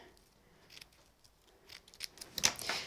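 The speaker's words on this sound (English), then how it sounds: "I'll probably just trim the edge." Scissors trim the edge of a piece of card in a quiet craft setting: a few soft, crisp snips cluster near the end after near silence.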